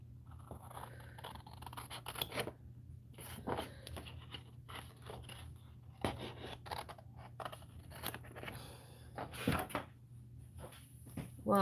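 Scissors snipping through paper to cut out a small figure, a close run of irregular crisp snips and rustles with brief pauses between cuts.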